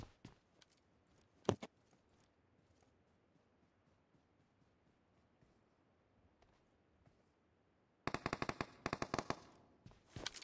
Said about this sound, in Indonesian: sudah mulai ada bunyi tembakan yang dilakukan di arah dari tim 11